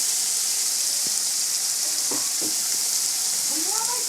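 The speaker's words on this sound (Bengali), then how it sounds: "আমি মশলাটা খুব ভালো করে কষে নেব" Spice masala with cumin powder, coriander powder and salt frying in a pan: a continuous bright sizzle, close and steady, with occasional scraping stirs and soft bubbling.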